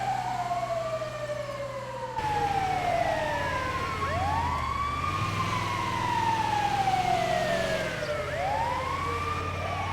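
A loud emergency vehicle siren in the GTA 5 LSPDFR mod wails in repeated rising and falling sweeps, switching its pattern midway and sounding close, with no talking.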